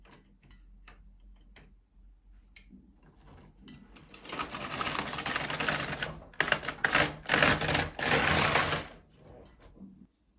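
An LK150 knitting machine carriage runs across rows in surges of rapid mechanical clatter and ticking, quiet at first and then louder, with brief pauses between passes.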